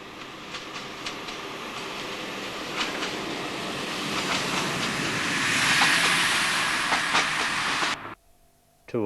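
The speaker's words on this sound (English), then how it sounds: "and then under the road bridge a train from Grantham to Nottingham." Train running from Grantham to Nottingham passing under a road bridge, a loud close rumble with hiss and rhythmic clicks of wheels on rail joints, cutting off abruptly near the end.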